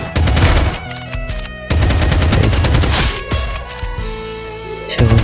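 Rapid bursts of gunfire from a shooting video game played with a sniper, loud and dense, with several volleys separated by short breaks and some mechanical clanks between shots.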